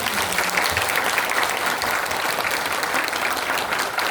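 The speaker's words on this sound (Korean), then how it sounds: "귀한 강의 들려주신 홍빈희 교수님께 다시 한번 큰 박수 부탁드립니다" Audience applause rings out after a lecture by a professor at a seminar event, steady, dense clapping from a seated crowd filling the room without pause, fairly near and even in loudness throughout.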